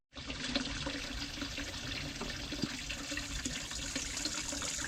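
Steady, continuous water running from a tap while a bottle is filled, a broad even rush that holds at a constant level throughout with no voices.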